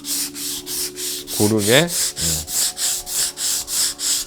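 Wooden cutting board hand-sanded with sandpaper, steady back-and-forth rasping strokes repeating roughly every half second, close and loud, with a brief spoken voice partway through.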